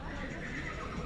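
A horse whinnies at an outdoor horse market in Sokuluk, Chüy, amid crowd noise and nearby voices.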